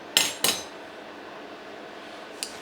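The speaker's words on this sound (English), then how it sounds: "I've got a new clove of garlic. I'm going to chop it in half first" Two sharp knife strikes on a cutting board as a fresh garlic clove is chopped in half, close and crisp, a brief pause, then a fainter tap near the end.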